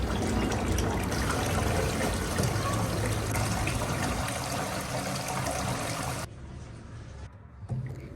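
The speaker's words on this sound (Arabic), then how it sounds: "بنغسله 3 مرات، بنكب عنه المي" Water poured off bulgur wheat that has soaked after three rinses, a steady splashing, trickling stream for about six seconds that then thins to a faint dribble.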